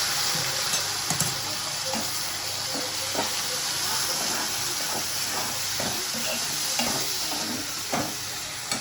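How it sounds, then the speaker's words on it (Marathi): Hot water poured onto garam masala frying in a pan sets off a steady hissing, steamy sizzle with soft crackles and occasional stirring clicks throughout. "मसाला करपाला नको ना म्हणून थोडासा गरम पाणी टाकायचं"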